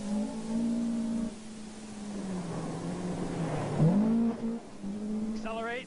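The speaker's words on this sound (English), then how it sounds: "Accelerate, 7 grand shift, 2nd gear, watch the axle tramp, straight on." A 1977 US rally car engine drones and revs steadily from inside the cabin, dips as a gear shift takes place, then climbs again, while a voice talks over the engine noise.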